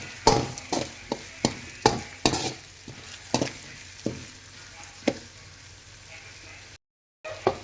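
Spoon scraping a pan while turmeric and salt are stirred in for puffed rice usli, a series of distinct sharp clinks at an irregular rhythm that thin out, over a low background hiss.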